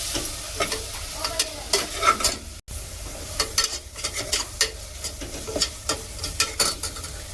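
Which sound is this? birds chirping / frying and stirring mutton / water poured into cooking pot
frying and stirring mutton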